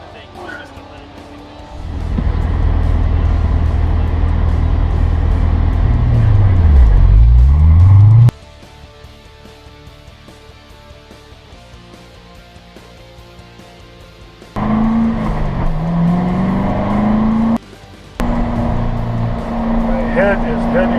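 Corvette show car on hot laps around a race track, heard from inside as loud engine roar rising and falling with gear changes, broken by quieter stretches and interrupted by talk.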